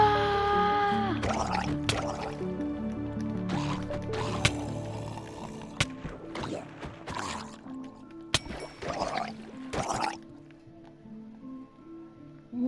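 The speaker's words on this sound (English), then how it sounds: "I'll get a water bottle just in case." Water sloshing and pouring as a bottle is filled in the Minecraft video game, a series of liquid splashes and gurgles with several sharp clicks, moderately close and uneven in rhythm.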